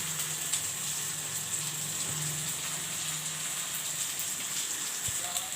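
Stale leftover cabbage frying in a pan, a steady close sizzle and crackle running unbroken throughout, with a faint low hum beneath.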